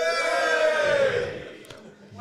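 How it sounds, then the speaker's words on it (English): A live audience at a podcast show gives a brief cheer and shout that swells and then fades within a couple of seconds, with a voice rising over the crowd. "Can I get a cheer from anyone in here who's not?"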